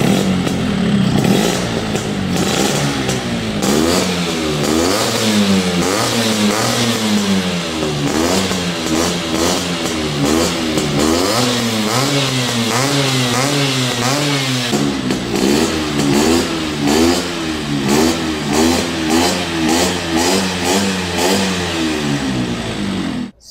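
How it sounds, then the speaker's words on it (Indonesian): A restored 1966 Vespa Super two-stroke scooter engine is revved continuously up close, loud throttle blips rising and falling in quick repeated waves with a buzzy, rattly tone throughout. "Gue nyalain nih motor ya"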